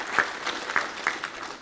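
Audience applause at a World Tuberculosis Day 2022 event comes through as faint, scattered claps at a distance, a few sharper hits standing out.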